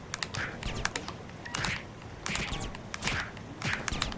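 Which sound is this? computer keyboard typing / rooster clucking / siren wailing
computer keyboard typing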